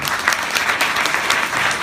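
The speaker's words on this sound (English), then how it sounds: "Let's have a round of applause for all our panelists." A panel discussion audience gives the panelists steady, loud applause, a dense wash of many hands clapping together throughout.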